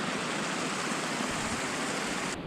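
Steady, dense roar of a waterfall used to generate electricity, in a mountain village in the Pamir region, close and loud, filling the whole stretch and cutting off sharply just before the end.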